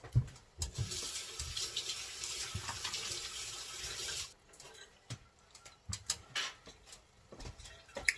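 Hands are washed under a running tap in a kitchen during preparation of pondu with fish, with a quiet, steady splash of water for about four seconds followed by a few soft clinks and drips.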